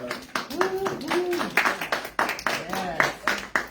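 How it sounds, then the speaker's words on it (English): Scattered hand clapping at an Indigenous GED graduation ceremony, with distinct claps in uneven bursts and people talking and exclaiming over them. "Give her a round of applause."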